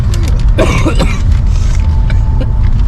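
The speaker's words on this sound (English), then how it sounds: "You just coughed" An elderly woman coughs in a car, a burst of several harsh coughs near the start over steady engine and road rumble, then fainter throat sounds.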